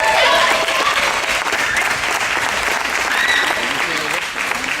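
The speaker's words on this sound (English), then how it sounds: "I just want to give her a shout out and a round of applause as well." Audience applause fills a school performing arts show, a dense, steady wash of clapping from a large crowd that holds loud and even throughout.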